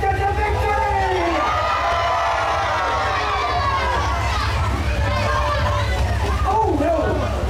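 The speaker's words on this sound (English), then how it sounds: "Come on, people! Cheer on Sir Hector to victory!" A crowd of spectators, children's voices among them, cheers and shouts for the knight Sir Hector at a medieval jousting show in Melbourne, a steady loud roar of mixed voices throughout with rising yells near the end.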